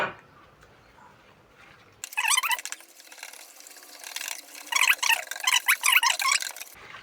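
After a quiet moment, water streams and splashes into a mixing container in the kitchen in uneven pours, growing louder in bursts before cutting off.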